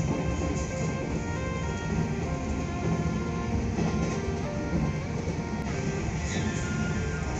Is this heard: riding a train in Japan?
yes